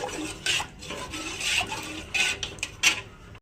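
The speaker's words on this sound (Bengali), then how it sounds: "আস্তে আস্তে দইটা দুধের সাথে মিশিয়ে নেব।" Spoon stirring yogurt into milk in a bowl, with soft, intermittent scraping and clinking strokes against the bowl; quiet and close, with no talking.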